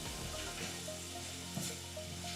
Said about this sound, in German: In die heiße Pfanne Sesamöl, Frühlingszwiebeln, Rüebli und presste Knoblauchzehen rein tun.